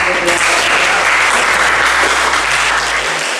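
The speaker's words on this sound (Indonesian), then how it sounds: "beri tepuk tangan." A group in a classroom session applauds after a group presentation, loud, close and continuous clapping throughout.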